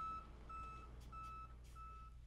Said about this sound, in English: Make sure backup alarms are working properly.